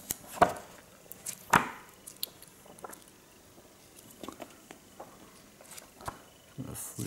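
Comic book pages being flipped by hand, giving several crisp, papery rustles and snaps at irregular intervals, close and fairly quiet, with soft handling noises between.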